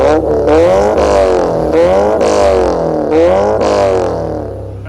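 A Jeep Wrangler JL engine with one side of the exhaust running an open header revs loud and close, climbing and dropping through several rhythmic rev cycles with a raspy, harmonic exhaust note and no talk.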